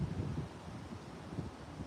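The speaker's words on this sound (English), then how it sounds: "It's like it's windy too, and it's a real nice breeze." Steady outdoor breeze buffeting the microphone as low, rumbling wind noise with slight gusting swells, continuous and close, with no voices.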